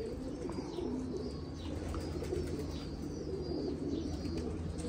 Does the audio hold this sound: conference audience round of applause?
no